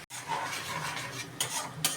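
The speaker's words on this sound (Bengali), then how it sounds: "একটু একটু জল দিয়ে জিনিসটাকে নাড়তে হবে" Savoury halwa stirred in a pan as small splashes of water go in, producing continuous soft scraping and light sizzling close up, with a couple of sharper clinks of the spoon against the pan.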